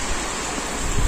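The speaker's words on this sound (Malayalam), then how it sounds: "നല്ല സൂപ്പർ മഴ." Heavy rain pours down around a house gate and garage, a steady, dense wash of broadband noise with no pauses and a few slightly louder gusts near the end.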